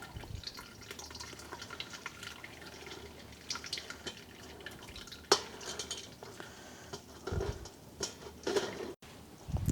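Rhubarb water for lemonade drains through a kitchen strainer as a ladle presses the pulp, giving soft trickling and dripping with occasional metal clinks and scrapes close by, and no talk.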